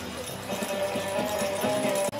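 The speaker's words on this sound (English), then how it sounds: "these are the horses that, it's the country horse, the Shires of England" Shire horses in a tandem hitch class stepping out, a rhythmic clip-clop of hooves under a steady hum of show-ring ambience.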